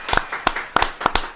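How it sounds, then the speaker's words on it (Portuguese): A few people clapping at a Brazilian podcast recording, sparse and close, about eight distinct claps in an uneven rhythm over little more than a second, with no voices. "Palmas para eles, uma palma."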